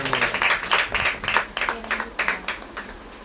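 A congregation at a Hindi-language church service claps together in a loose, uneven rhythm for about three seconds, the claps fairly near and steady, with faint voices underneath.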